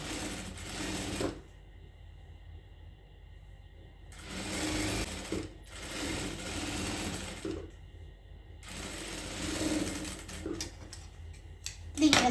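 A sewing machine runs a long straight stitch along a kurti side slit in several close, steady whirring bursts, separated by brief pauses.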